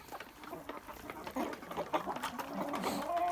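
Young roosters squabbling among chickens, including Livny calico, Amrox and White Leghorn hens, with scattered clucks and short squawks over a quiet farmyard background, moderately near and rising slightly toward the end.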